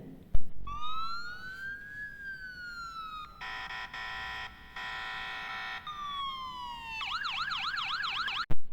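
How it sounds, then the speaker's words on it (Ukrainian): An ambulance siren cycles through several patterns, from slow rising and falling wails to a rapid pulsing yelp and a fast warble, loud and continuous with a short horn blast at the start. "це вже мчить швидка допомога"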